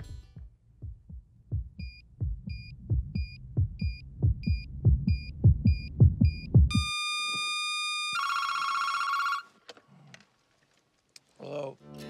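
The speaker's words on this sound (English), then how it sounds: "the heartbeat sound effect match cut with the phone ringing" A film's sound effects: a loud, steady heartbeat thumping about twelve times, cut straight into an electronic telephone ringing in two bursts, then brief quiet and a short voice at the end.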